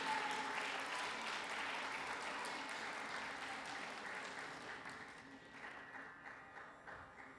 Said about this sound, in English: Please give another big round of applause for Kumari Aradhna